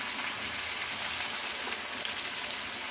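Masala-stuffed brinjal sizzling steadily in a pan, a dense, even crackle of frying oil that stays loud and continuous throughout, with no voices.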